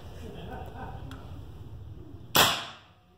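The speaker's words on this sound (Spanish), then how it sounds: "vamos a proceder con el primer disparo" A single loud, close rifle shot from a Fox M22 .30 calibre (7.62 mm) rifle cracks sharply and then decays quickly against a low, steady background noise.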